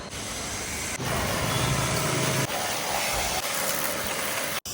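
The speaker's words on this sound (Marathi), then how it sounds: "असं मशीनने गाडी धुवायचं" A motorbike muddied in the rain is sprayed down with a pressure-washing machine, giving a loud, steady hissing roar that runs almost the whole time, with a brief cutout near the end.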